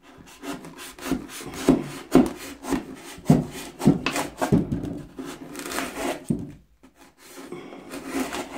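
Scenery piece for an Altaya Train des Alpes model railway being cut by hand, giving a run of close, rhythmic rasping and rubbing strokes with brief pauses, no talking.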